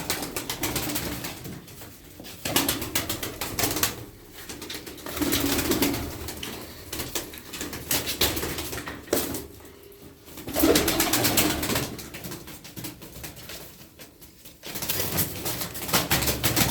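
Pigeons coo repeatedly in soft, rolling bursts, with fluttering and rustling around them and no talking.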